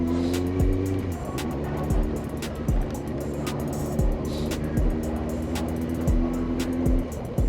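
A Kawasaki ZX9R motorcycle engine runs under throttle, a steady mid-pitched drone that holds and shifts slightly, close and fairly quiet, broken by repeated sharp knocks and clicks scattered throughout.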